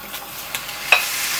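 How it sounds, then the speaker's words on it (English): Chicken sizzles in a hot frying pan, a steady crackling fry with a couple of brief stirring scrapes, close and alone without speech. "Do you hear that sizzling?"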